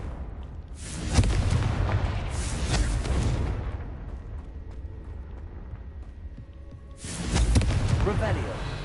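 Spell explosions from the Confringo fire spell in the Hogwarts Legacy video game, two loud booming bursts with crackling debris, one near the start and another near the end, separated by a quieter rumbling stretch.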